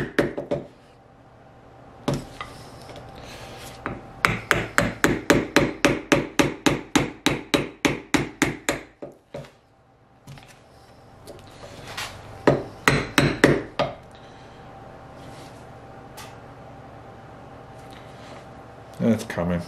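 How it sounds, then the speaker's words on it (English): Flat blade hammered to break up the old seal on a Mercedes W108 steering pump held in a vise, with a quick series of close metallic knocks, then a pause and a shorter burst, under occasional talk. "I'm just going to carefully use a flat blade to bust up that seal"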